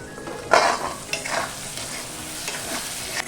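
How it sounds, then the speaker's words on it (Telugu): Tomatoes cook in a pan for a tomato chutney, a soft steady sizzle close by, with a few scraping stirs of a spoon against the pan and no talking. "టొమాటోలు బాగా మెత్తబడేంత వరకు మగ్గించుకోవాలి."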